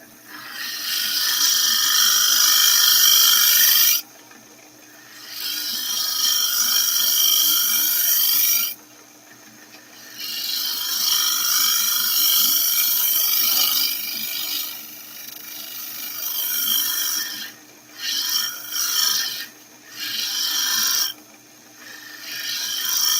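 Woodturning tool being sharpened to raise a burr, a loud, close, hissing grind held for several seconds at a time, broken by short pauses and a few quick bursts near the end.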